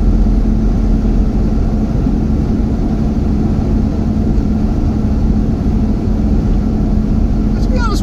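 A VW T25/T3 camper with a swapped-in TDI engine cruises in fifth gear at about 100 km/h, a loud, steady engine drone and road roar filling the cabin, with someone talking over it.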